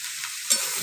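Hot water poured into a pan of frying vegetables with prawns, garlic and onion paste, giving a hissing sizzle that flares up suddenly partway through, close and fairly soft.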